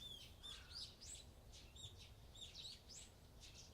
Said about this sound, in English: Why are there birds chirping?